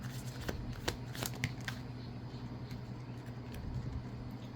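Oracle cards being shuffled in a quiet room, a soft continuous riffling with faint papery flicks over a steady low hum.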